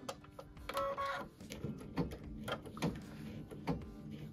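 Embroidery machine stitching a quilted lace zip bag in the hoop, with a quiet, busy mechanical clatter of rapid needle strokes and small clicks close by.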